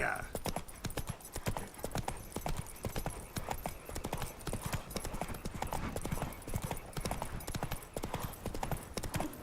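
Roach, Geralt's horse in The Witcher 3, clip-clops along in a steady, continuous rhythm of hoofbeats under game music and spoken dialogue.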